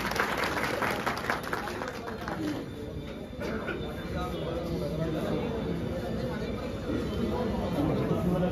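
A crowd at a meeting of DJ operators in Saharanpur claps to welcome a guest. The applause is dense and steady throughout, with voices and general hubbub mixed in.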